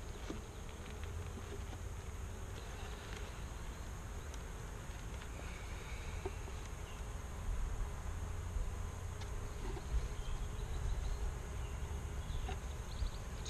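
Honey bees at an opened backyard hive buzz in a steady, dense drone, with many insects humming at once close by and individual bees flitting past now and then.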